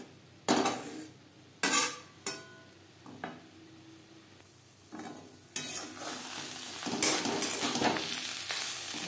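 Ghetkol leaf paste is stirred and dry-fried in a kadai over a low to medium gas flame: repeated scraping spatula strokes against the pan, a few sharp clanks and a faint underlying sizzle, close and unaccompanied by speech.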